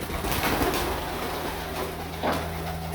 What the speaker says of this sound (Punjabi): ਕਬੂਤਰ ਲਓ ਵੇ ਬੱਚੇ ਆਪਾਂ ਫੜ ਲੈਂਦੇ